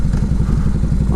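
A 1340 Evo motorcycle engine, an older model-year Harley-style V-twin, runs with a steady, loud low-pitched thumping idle, close by and alone, with a slight rev rising at the very end.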